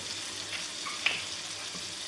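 Butter and sugar heat in a pan for tarte tatin, giving a soft, steady sizzle with faint crackles and one brief louder pop, close and alone.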